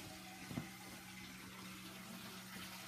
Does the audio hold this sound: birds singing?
no